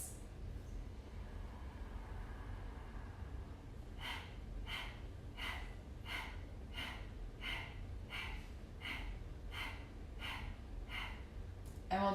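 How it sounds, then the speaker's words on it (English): Kapalabhati breathing: after a stretch of quiet room tone, a steady train of about a dozen sharp, forceful nasal exhales with passive inhales between them, evenly paced and close. "You're gonna feel an upward energy as you forcefully exhale, and then you're also gonna passively inhale."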